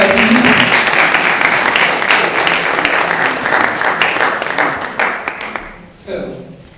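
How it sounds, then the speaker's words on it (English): Audience applause at a women's awards gala in Paris, a dense, sustained wash of clapping from a large crowd that holds steady for several seconds before thinning out near the end. "A round of applause for her, please."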